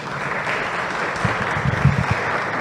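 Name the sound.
congregation applause in church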